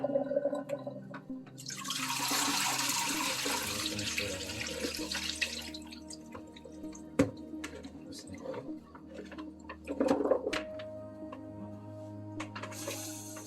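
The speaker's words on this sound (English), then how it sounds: "But I'm gonna throw off this water." Water poured off from a cooking pot into a sink while making Jamaican green pea soup, a steady broadband rush lasting about four seconds, then fading into quieter kitchen clatter and a few knocks.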